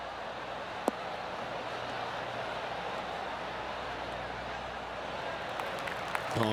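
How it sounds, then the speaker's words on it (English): Soft, steady golf-course applause from a crowd in the PGA TOUR 2K23 video game, a sustained patter of clapping over a hushed background. "Oh, golf clap."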